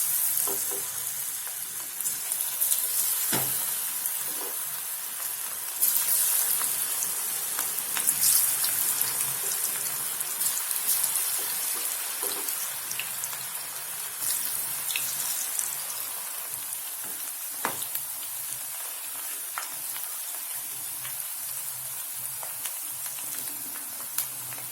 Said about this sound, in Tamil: இப்போ நம்ம ஒன்றொன்னா போட்டு பொரிச்சு எடுத்துக்கலாம்